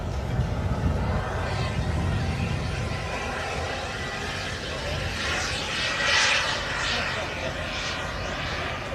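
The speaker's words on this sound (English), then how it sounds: "that's Viper jet" A Viper jet, a turbine-powered model aircraft at an airshow, flies past with a continuous whooshing turbine roar that rises and falls as it passes, while a commentator talks over it.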